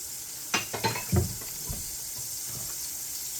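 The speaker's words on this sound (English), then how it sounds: "See, that's nice and hot because we use the same pan. Garlic goes right on in." Garlic sizzling in a hot pan, a soft continuous hiss with a few brief crackles and a low thump as it goes in, fairly quiet throughout.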